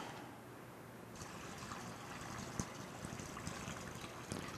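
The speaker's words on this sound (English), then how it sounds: "pour the water in." Water pours steadily into a plastic Ziploc bag, a continuous soft splashing trickle at close range with no speech.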